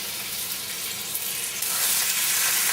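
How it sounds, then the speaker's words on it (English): Loud, dense sizzling of rabbit meat frying in a hot pan, a continuous crackling hiss that swells slightly near the end. "We will now fry this rabbit a little, such that all the sides turn white or a little brown."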